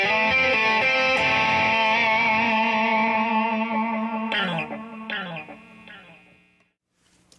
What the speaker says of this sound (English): I'll play a couple little more lead licks with a lot of distortion